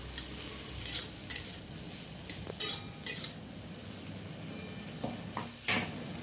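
Eggplant and taro frying in a pan: a low, even sizzle, cut through by sharp clinks and scrapes of a utensil against the pan at irregular intervals.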